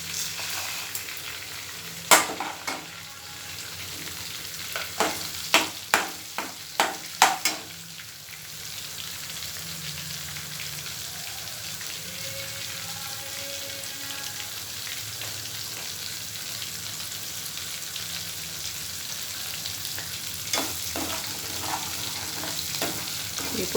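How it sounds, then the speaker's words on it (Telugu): Tempering spices crackle and sizzle in hot oil for a tomato pickle, with a burst of sharp pops and spatters early on, then a soft, even frying hiss that carries on alone. "ఇప్పుడు పోపు దినుసులు వేసుకుందామండి."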